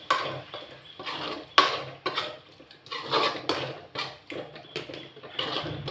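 Metal utensil scraping and clinking against a pot of prawn gravy in repeated strokes, close by, with brief pauses between stirs.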